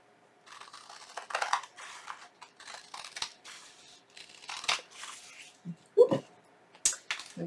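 Scissors snip through fabric while trimming excess from a square for junk-journal envelopes, giving intermittent close crisp cuts with rustling and a few handling thumps between.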